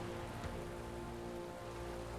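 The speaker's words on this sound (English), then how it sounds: "Oh, it's raining." Steady rain in the video game Metaphor: ReFantazio patters on a surface, a dense, even hiss without pauses, fairly soft and close.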